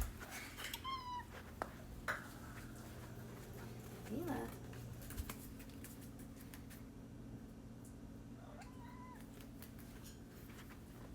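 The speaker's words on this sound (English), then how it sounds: "The meowing commence." A cat meows a few times indoors, short separate calls spread through the stretch, moderately near, while a person talks and murmurs at intervals over a low steady hum.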